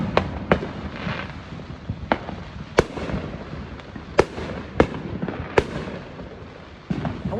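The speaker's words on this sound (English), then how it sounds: "I'm going to try to show these fireworks to the trees." Fourth of July fireworks burst in about a dozen sharp reports at irregular intervals, some loud and close, others softer and more distant, echoing over a faint background murmur.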